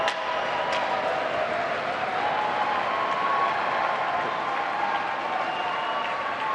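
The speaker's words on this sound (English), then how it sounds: "We'll let you listen into the crowd and the roar from the far side" A packed arena crowd at a men's ice hockey championship, Fitchburg State against MCLA, roaring and applauding in a sustained, dense din heard from a distance.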